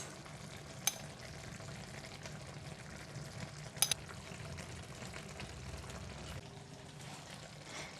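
Eggplant and minced pork bubble gently in a hot clay pot with the heat switched off, a faint, soft sizzle and simmer with a couple of brief clinks, close and quiet.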